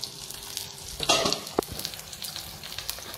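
Whole fish coated in masala fries in a pan over a medium flame, giving a steady close sizzle with a louder spitting burst and one sharp pop partway through.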